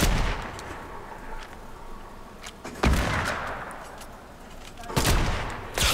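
Gunfire in the video game Fortnite: bursts of shots at about three and five seconds stand out over a steady background of game sound, loud and close.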